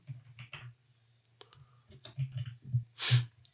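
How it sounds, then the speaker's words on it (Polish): Computer mouse clicks and keyboard typing while entering an authentication code, a sparse run of soft close clicks and taps ending in a louder click. "Klikamy dalej i wpisujemy kod uwierzytelniający"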